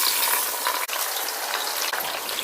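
Onions frying in very hot oil with masala for Nellore-style prawn biryani, a steady close crackling sizzle with no talk.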